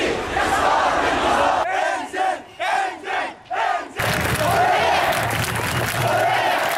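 A large protest crowd in Egypt chants in loud, rhythmic unison, with a run of evenly spaced shouted bursts separated by short pauses, followed by a sustained roar of many voices.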